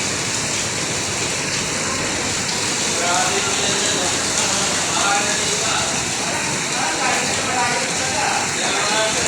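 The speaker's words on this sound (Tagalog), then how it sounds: "Lakas ng ulan" Loud, steady downpour drums on surfaces nearby, a continuous roaring hiss, while people talk under the rain.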